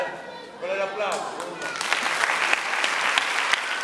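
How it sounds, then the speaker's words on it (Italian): Circus audience applause at a show with tigers and lions, rising after a brief spoken announcement and a short sung or called phrase, then a full burst of crowd clapping. "Con l'applauso."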